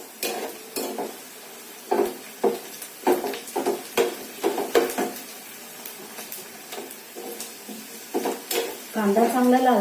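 Onions and green chillies roasting in a pan over a full gas flame, with a low sizzle under a steady rhythm of spatula scrapes and knocks, close and clear, and a voice briefly at the end.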